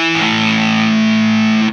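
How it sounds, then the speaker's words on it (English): Electric guitar through an Expandora fuzz pedal with the guitar volume rolled down, a single sustained chord with gritty, reduced fuzz ringing evenly and cutting off abruptly after under two seconds. "you'll notice the distortion went down a lot."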